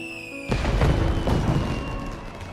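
An animated Uji Fireworks Festival scene in Kyoto opens with a soft tone, then a deep firework boom bursts in, followed by a rumbling, crackling tail that slowly fades.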